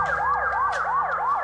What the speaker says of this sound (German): Wie zum Beispiel Sirenen.